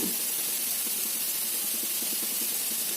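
Grated radish fries in a pan over high flame with a steady, dense sizzling hiss and faint crackles, continuous and close.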